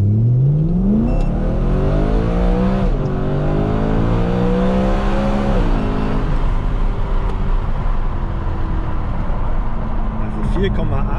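A car accelerates hard from 0 to 100 km/h, heard from inside with a window lowered, the engine note climbing through several gear changes in a loud, steady roar, with a voice talking over it.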